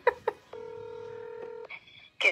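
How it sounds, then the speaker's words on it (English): A telephone call dialed on speakerphone gives two short tones, a long steady dial tone, then a quick beep, with brief voices at the start and end. "I'm going to get Mom on the phone"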